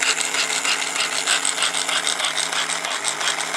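A 1952 American Flyer toy locomotive runs close by with a steady, rapid mechanical whirring and clicking of its motor and gears, an even rattling texture with no voices.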